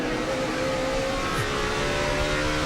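Race cars at a race in Montreal, a steady, dense engine roar that fills the whole moment at an even loudness, with no voices on top.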